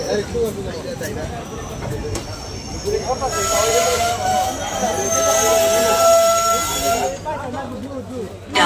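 The Sifhung Express passenger train stands at Barpeta Road station platform amid a crowd of passengers, with a loud steady hiss and rising metallic wheel squeals over the rumble of the station.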